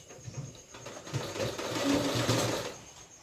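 A sewing machine runs steadily while princess-cut blouse pieces are joined, its stitching whir rising slightly mid-way and easing off, close and fairly quiet with no talk over it.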